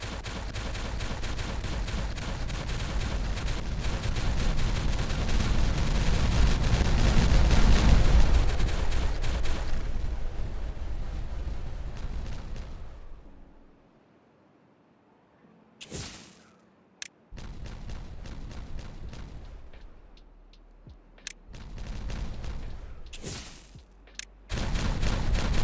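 A long rumbling roar of dynamite explosions in the beaver colony-building game Timberborn, swelling loud for about twelve seconds before fading to near silence, then a few shorter blasts and bursts of debris.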